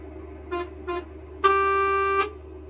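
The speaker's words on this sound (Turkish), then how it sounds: "Kornalarımız da bu şekilde." Horn of a Mercedes-Benz Tourismo coach in Euro Truck Simulator 2: two brief toots, then one longer sustained blast of under a second, loud and close over a low idling engine hum.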